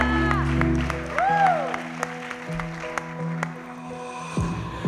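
A church congregation at a Saturday service applauds beneath sustained music with tonal, sliding sounds, the clapping blended into the music throughout.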